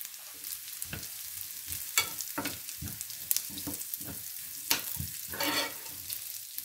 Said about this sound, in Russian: Я добавляю еще миндаль. И тоже все это обжариваем.